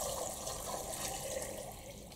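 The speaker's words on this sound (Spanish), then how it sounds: "Y las vamos a cubrir con agua." Water poured over potatoes in a small cooking pot makes a steady, continuous rush and splash, fairly close and without pauses.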